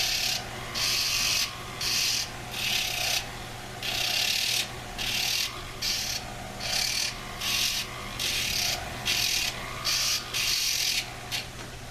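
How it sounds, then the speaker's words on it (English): Sharp edges on a handmade silver bezel ring are ground down in repeated rasping strokes, each burst lasting about half a second with short pauses between, steady and close with no talking. "I'm just going to grind these down a little bit."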